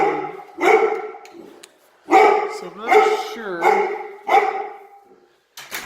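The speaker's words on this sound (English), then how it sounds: "There is a dog in the garage" A dog inside a three-car garage gives a few loud barks and yips in bursts, close by, with a person talking between and over them.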